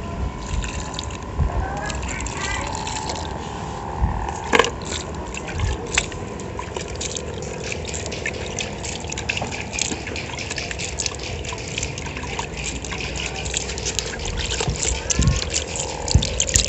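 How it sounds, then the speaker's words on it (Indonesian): Water is poured slowly around a newly planted fig tree, a continuous close trickle and splash with occasional scraping, while someone talks over it. "Nah, baru tanam, siram sedikit-sedikit."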